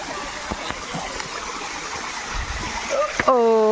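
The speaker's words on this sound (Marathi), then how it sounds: "यहाँ का धबधबा" The waterfall at Khuldabad rushes and splashes in a steady, broad wash of water, close and continuous. People talk over it, and a brief whistle-like tone rises near the end.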